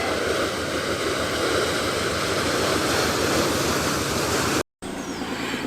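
Water rushes steadily through an opened paddle at a canal lock, a loud, continuous broadband roar close by that cuts out briefly near the end and then resumes.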